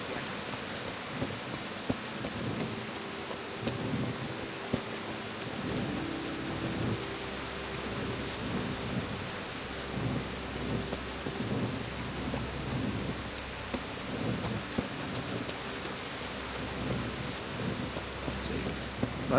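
Steady rain with low rolling thunder fills the ambience in the medieval video game Kingdom Come: Deliverance, a continuous wash of downpour with occasional deeper rumbles, and faint voices in the background.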